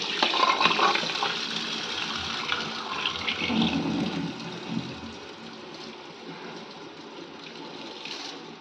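Soaked raw rice being washed under running water in a pot, a continuous rushing, sloshing splash that is loud at first and gradually steadies and fades slightly.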